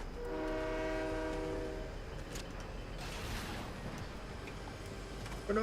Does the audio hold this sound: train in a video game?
yes